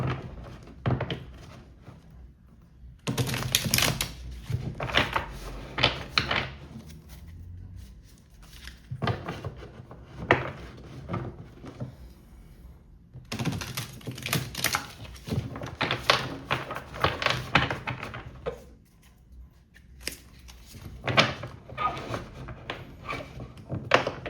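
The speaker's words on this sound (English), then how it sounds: "I like to hear people play with cards" Tarot cards handled and shuffled in bursts of dense, crisp riffling and soft tapping, with short pauses between bursts and close, moderately loud detail.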